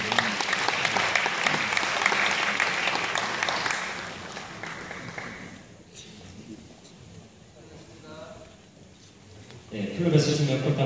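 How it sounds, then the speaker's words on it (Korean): Applause from an audience at a Lions Club district annual convention award ceremony rings out loudly for several seconds, then fades to a softer patter while a voice speaks, before a brief burst of clapping returns at the end. "여러분 축하의 박수 부탁드립니다."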